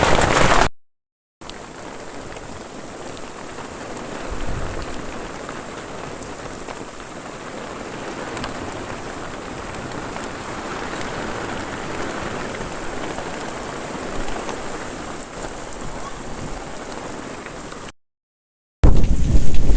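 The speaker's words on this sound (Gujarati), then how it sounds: "વરસાદ આવીને અત્યારે હાવ બધું ભાઈ પલારીને વયો ગયો આપણા ઘરમાં બધે" Steady, dense rainfall pours down on a village house, a continuous loud wash with a faint low rumble of thunder around the middle and wind buffeting the microphone.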